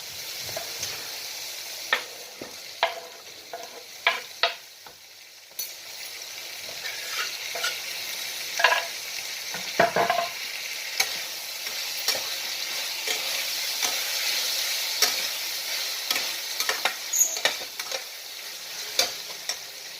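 Ginger and garlic paste frying in a pan for a chicken curry, a continuous close sizzle broken by irregular scrapes and taps of a spoon stirring for about twenty seconds, with no voices.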